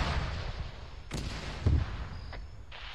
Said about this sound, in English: Also got more mortars.